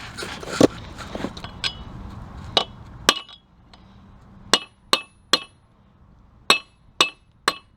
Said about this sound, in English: I'm going to fit that in there and give it a couple smacks right here to loosen this up.